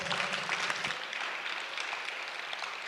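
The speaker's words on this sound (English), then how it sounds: "let's give them a round of applause" A round of applause from a basketball media day crowd, dense steady clapping that stays fairly loud for the whole stretch without breaking off.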